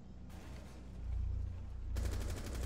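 Sustained rapid automatic gunfire from a heavy-recoil gun in a video game, a dense rattling stream that grows louder partway through, with no talking.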